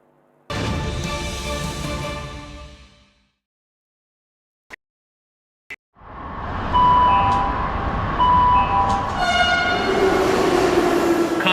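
A metro train, the Delhi Metro, rumbles loudly and blows its horn, then after a brief silence with two sharp clicks it rolls in again with a steady roar and tonal whine.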